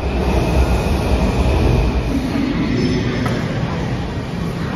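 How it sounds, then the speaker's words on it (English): Loud, steady rumble of a Washington DC Metro Red Line subway train in motion, with continuous rail noise and a faint squeal partway through. "Now let's take a red line train."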